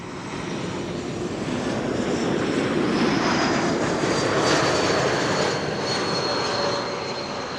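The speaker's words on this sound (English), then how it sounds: "E2 Embraer 195." An Embraer 195 E2 jet airliner at Amsterdam Schiphol Airport, returning on a short flight from Brussels, roars steadily across the whole stretch, a loud, broad engine rumble that swells slightly in the middle.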